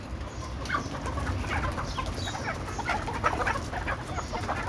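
Several chickens cluck and squawk nearby in overlapping bursts over a low background rumble.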